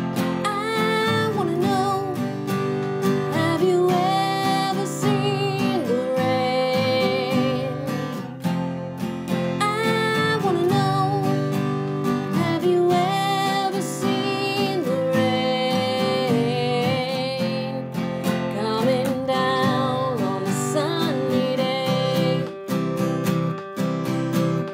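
An acoustic guitar strums the chorus of a song in a steady down-up rhythm, with full ringing chords continuing throughout at close range.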